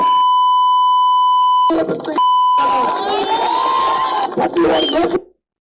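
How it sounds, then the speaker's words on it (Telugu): A loud, steady electronic censor beep cuts in, breaks off briefly, then returns before excited talking takes over. "అక్కడ బీప్ వేశారు"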